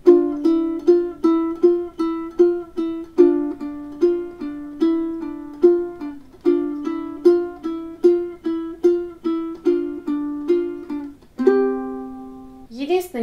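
Ukulele strummed in the easy version of the ending of a song from The Witcher, a steady, bright rhythm repeating chord patterns, then slowing into a final ringing chord with a brief flourish.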